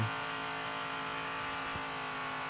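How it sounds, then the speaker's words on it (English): A loud, steady truck engine roar at high revs in the video game Demolition Derby 3, constant and close, with no pauses and no voices over it. "can't believe this truck screams this loud and goes this fast"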